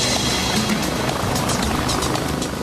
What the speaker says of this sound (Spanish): Los helicópteros se agolpaban peligrosamente en los límites.